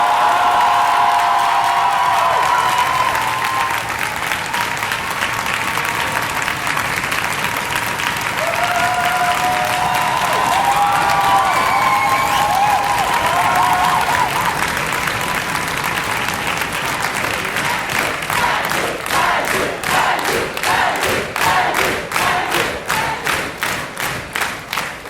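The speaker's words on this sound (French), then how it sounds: "On peut applaudir Taïzou." Audience applause with cheers and whoops at a revue stage show, a loud sustained crowd sound that turns into sharper, more distinct rhythmic clapping toward the end.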